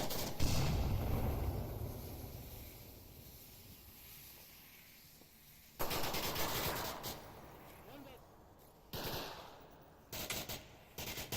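Bursts of gunfire in the VR shooter Onward during a competitive match, with blind fire sounding as clustered rapid shots after a quieter stretch, several sharp volleys separated by brief pauses, fairly loud against low ambient game noise.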